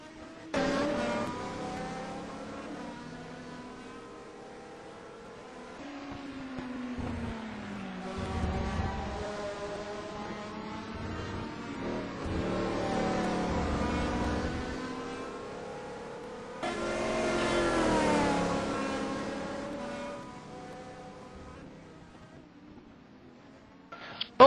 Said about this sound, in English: Helen is still at the back of the FlatOut car.